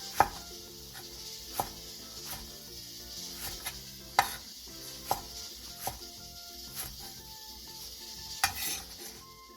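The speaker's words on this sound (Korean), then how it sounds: "가지 5개를 반으로 자른 뒤 다시 먹기 좋은 크기로 길게 2에서 4등분으로" A knife chops eggplants on a board, halving them and then slicing them lengthwise into pieces. The sharp, irregular chops are close, with a soft sizzle and kitchen clatter behind them.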